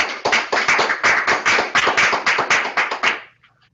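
A crowd at a graduation ceremony applauds steadily for about three seconds, a dense patter of many clapping hands that then quickly dies away to silence.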